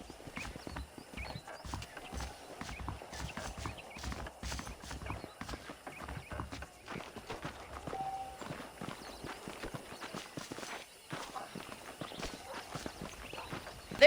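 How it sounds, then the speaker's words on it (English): Steady clip-clop of horse hooves walking at an even pace in Red Dead Redemption, close and continuous, with faint snorts and ambient game sounds beneath. "The horses are saddled up over here."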